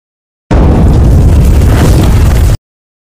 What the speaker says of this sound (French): L'eau crée des flambées soudaines et propage le feu.